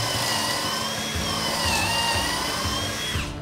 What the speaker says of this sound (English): I decided the first thing I needed to do was to cut out all of my panels for the cabinet.